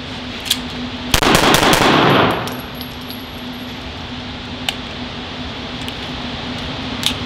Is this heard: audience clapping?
no